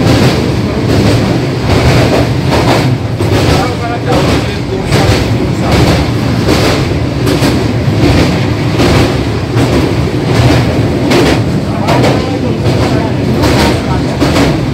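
The 15777 New Jalpaiguri–Alipurduar tourist express, a vista dome special train, runs at speed with a loud, continuous rumble and rhythmic clattering from inside the carriage, and voices can be heard underneath.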